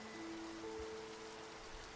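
Rain falling as a steady, very faint hiss of drops on surfaces, even and continuous, with a low faint hum running underneath and no voices.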